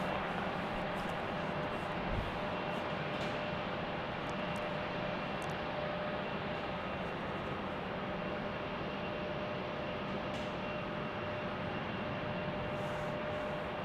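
A South African Airlines airliner passes at Salt Lake City airport, its engine roar a steady, broad, moderately loud drone that holds throughout, with no one talking.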